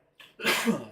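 A single sharp sneeze, a quick intake of breath followed by an explosive burst, close and loud.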